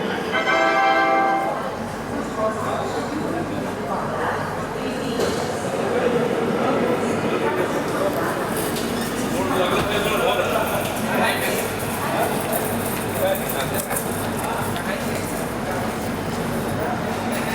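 The 17630 Hazur Sahib Nanded Hadapsar Express departs, its steady rumble and rattling wheels continuing throughout with a faint bell-like ring, while people talk over it.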